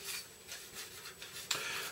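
Soft, steady rubbing and wiping of a kitchen towel across the hard surface of a model ship, with a slightly sharper scuff near the end.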